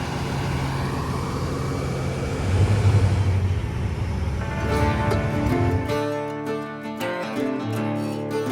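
A grain cart tractor rumbles along during wheat harvest, a steady low engine drone that swells and then shifts into a harsher, harmonic-rich mechanical hum with rattling tones near the end.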